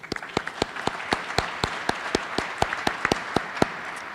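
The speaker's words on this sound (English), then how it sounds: "We give them a round of applause." Applause from the audience at a governor's ceremonial signing of education bills: distinct, evenly spaced claps ring out close and clear for about four seconds, with no talking over them.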